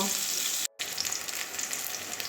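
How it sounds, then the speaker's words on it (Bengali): Pointed gourd (potol) frying in a pan, a steady close crackling sizzle that cuts out for an instant before resuming just as strongly. "এবারে লাল লাল করে পটলগুলোকে ভেজে নেব"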